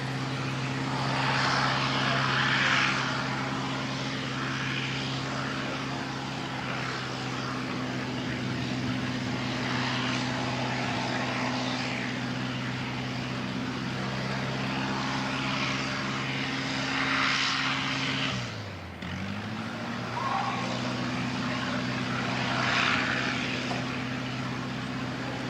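A Fiji Airways airliner taxis at Christchurch Airport on a gusty day, its engines giving a steady, moderately distant whine and roar that dips briefly near the end before settling back.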